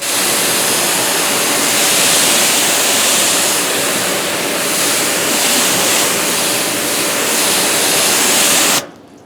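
Water sprayed steadily onto a car hood coated in DPC Armor SiO2 sealant, sheeting off the paint as a continuous loud hiss and splash that stops abruptly near the end.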